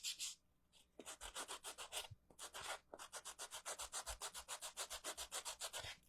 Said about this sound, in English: We're sanding the slice.